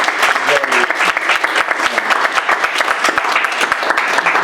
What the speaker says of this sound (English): And one last round of applause for the panelists.